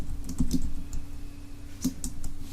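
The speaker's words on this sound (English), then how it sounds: "I'm going to type in this weird word op digits." Several soft keystrokes on a computer keyboard, a few scattered taps in short bursts, close and fairly quiet over a low steady hum, with no voices.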